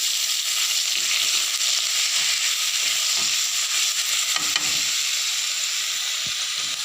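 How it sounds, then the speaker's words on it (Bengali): Onion paste hitting very hot oil gives a loud, dense, continuous hiss and sizzle with a few soft stirring knocks beneath, heard close up with no voices. "তেলগুলো অনেক গরম হয়েছে। পেঁয়াজ পেস্ট দিলাম"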